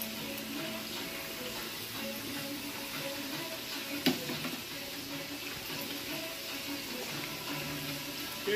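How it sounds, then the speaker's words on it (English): Pastelillos, smoked pastry empanadas, fry in hot oil with a steady, close, continuous sizzle and an occasional light clink. "sometimes you can flip it to the other side so that both sides fry evenly"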